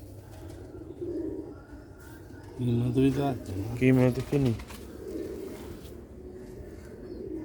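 Pigeons coo in short rounded bursts at close range, sitting under steady nearby talk at a rooftop pigeon sale in Sialkot.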